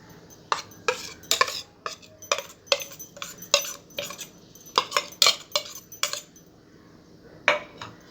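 Brownie batter of butter, cocoa, cream and milk being mixed in a bowl: a brisk series of clinking scrapes from a utensil against the bowl, close and irregular, with short pauses between strokes and no talking.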